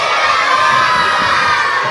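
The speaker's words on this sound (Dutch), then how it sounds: "Roep het maar keihard." Crowd of children shouting their wishes all at once to Sinterklaas at a Sinterklaas arrival event in Tiliander, a loud, dense, sustained chorus of high voices with no pause.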